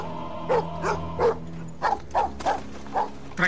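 Dogs in a bleak, disorienting outdoor landscape give a string of short, moderately loud barks and yips, spaced roughly every half second over a low steady background.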